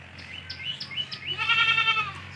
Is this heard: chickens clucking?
no